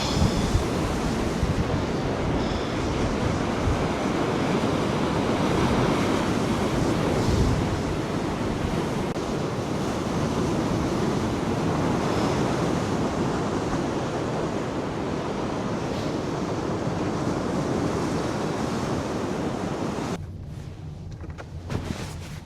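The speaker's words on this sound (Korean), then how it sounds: "앞에 파도 진짜 멋있네요" Steady roar of ocean surf breaking on the shore at Ulleungdo, South Korea, broad and continuous with gusty wind noise, cutting out abruptly near the end.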